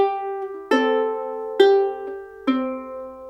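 Fingerstyle ukulele playing the second bar of a pattern, three plucked notes ringing out clearly with the thumb keeping a steady rhythm on lower strings, close and alone.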